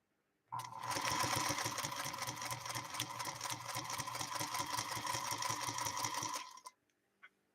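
A 1952 Singer sewing machine runs fast and steadily for about six seconds while stitching through 16 layers of fabric, a close, even mechanical chatter that starts and stops abruptly, with a small click afterward.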